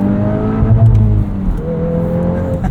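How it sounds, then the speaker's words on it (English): 2023 Volkswagen Golf R manual 20th Anniversary Edition, 2-liter turbocharged inline-four, bouncing off the rev limiter with a loud, sustained buzzing drone from inside the cabin, no talking. "Rev limiter's fun too."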